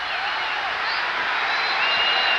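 A boxing arena crowd at Cobo Arena roars and cheers in a dense, continuous wash of noise with scattered applause, steady and loud throughout the late round.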